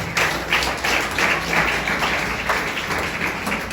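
A church congregation claps loudly and continuously in a dense, roughly rhythmic wash of many hands, filling the hall from start to end.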